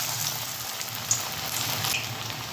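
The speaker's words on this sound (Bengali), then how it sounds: "এটা লো টু মিডিয়াম আঁচে ভাজবেন, আর এইভাবে আমি হাত দিয়ে এগুলোকে আমি ভাজছি বন্ধুরা" Slices of bitter gourd (karela) frying in oil over low-medium heat, a steady close sizzle with fine crackling and a few brief pops, no voices.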